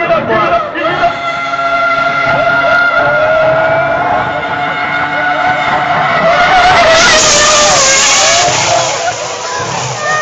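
A Red Bull Formula 1 race car screams past at full speed nearby, its engine loud and high-pitched and rising in pitch as it passes, with a crowd faintly audible underneath.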